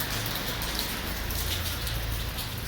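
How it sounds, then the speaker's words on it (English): Steady rain falling outdoors near a courthouse in Walterboro, South Carolina, a continuous even hiss of drops on surfaces with no break and no talk. "I'm out here in the rain."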